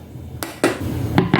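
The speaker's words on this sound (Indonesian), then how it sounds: "Dan langsung saja saya ambil talenan." A wooden cutting board picked up and set down on a kitchen counter while cooking tofu, giving a few sharp knocks and clatters close by, alone without talk.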